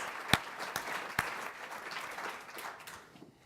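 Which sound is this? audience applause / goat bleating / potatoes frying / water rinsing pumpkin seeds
audience applause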